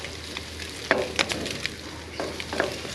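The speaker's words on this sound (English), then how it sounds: "I'm just going to continue to stir fry this up for about another minute" Pork fried rice sizzles in a hot wok, frying steadily with a few sharp scrapes and clacks from stirring.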